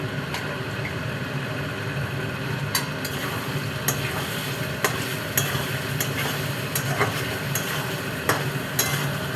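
Rajshahi aloo dum, a potato curry finished with homemade garam masala and coriander leaves, sizzles steadily in the pan as a constant frying hiss with scattered sharp crackles and pops.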